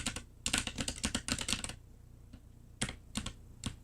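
Fingers type on a computer keyboard close up: a quick run of crisp key clicks for over a second, a short pause, then a few scattered single keystrokes.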